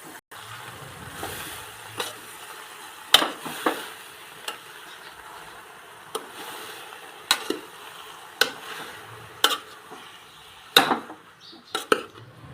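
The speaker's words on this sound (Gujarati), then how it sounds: "હવે આપણે આને છે ને હલાવીને ઉપર નીચે કરી નાખીએ એટલે આમાં તેલ ને એવું બધું ભળી જાય" Amaranth greens stirred and tossed in oil in a pan, with a soft sizzle and irregular scraping and clinking of a spoon against the pan, some knocks louder than others, with no speech.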